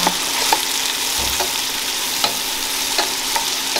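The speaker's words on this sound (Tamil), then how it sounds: "பச்சை மிளகாய் அதை கொஞ்சம் வதங்கட்டும்" Green chilies sautéing in oil in a pan for chicken biryani, a steady close hiss of frying with occasional light stirring taps, alone without any voices.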